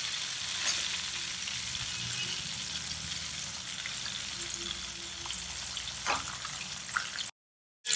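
Hot oil bubbling and sizzling steadily as banana slices deep-fry into chips, a continuous close crackle with a few sharper pops near the end.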